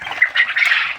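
A male quail calls in a short burst of repeated, sharp, high squawking notes, close and fairly loud, with no other sounds.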